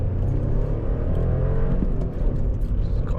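An old 1.2-litre VW Polo engine drones steadily from inside the car, a continuous low rumble with a rising whine as it revs toward redline.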